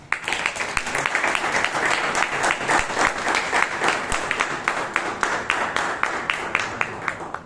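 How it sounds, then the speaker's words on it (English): Warm applause at a Toastmasters meeting in Bangalore, a small to moderate group clapping close by with distinct individual claps, sustained and fairly even. "we did a special round of applause"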